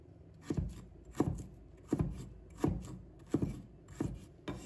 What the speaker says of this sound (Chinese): 把大蒜切成小块，生姜也切成小块